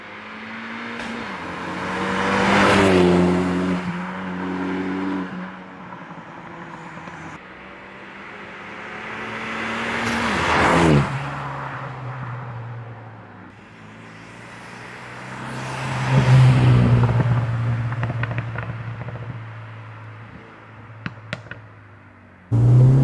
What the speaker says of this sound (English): We're gonna go for a little drive now and show you how this thing sounds.